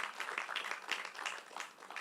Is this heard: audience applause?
yes